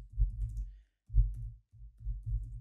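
Close, quiet keystrokes on a computer keyboard, arriving in three short clusters of soft taps with brief pauses in between.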